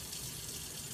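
Tap water runs steadily at the sink while cucumbers are washed, a continuous even hiss and splash at moderate distance with no talk over it.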